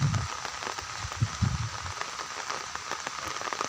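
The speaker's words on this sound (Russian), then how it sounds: "Дождь обещали, он и пошел." Rain falling steadily while walking outdoors, a dense patter of drops on surfaces close by, with a few louder thuds near the start and no talk.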